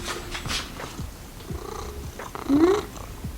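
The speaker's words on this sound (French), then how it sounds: "ce chat, je crois qu'il pleure parce qu'il n'y a pas son maître" A domestic cat waiting for food purrs close by, with a few short, plaintive cries rising over the rumble.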